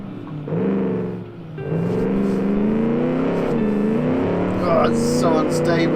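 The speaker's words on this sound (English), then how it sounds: "Yeah, that's wheel spin." Tyre wheel spin and a straining engine from a 1946 Gasmea car in a racing game time trial, revving and whining steadily under power over several seconds, with a voice talking over it.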